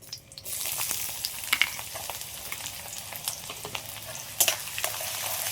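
Chopped onion hits hot oil already holding cardamom, cloves, cinnamon, bay leaf and dried chilies for malai chicken. A loud burst of frying opens into dense crackling sizzle, with repeated stirring scrapes throughout and no voices.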